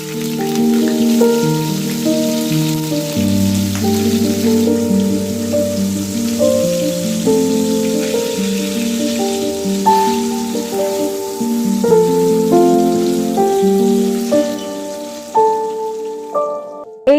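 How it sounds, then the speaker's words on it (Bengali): Paneer pieces fry in hot oil in a wok with a dense, rain-like hiss throughout, heard under loud background music. "এবার পনিরগুলো ভাজার জন্য আমি কড়ার মধ্যে দিয়ে দিলাম"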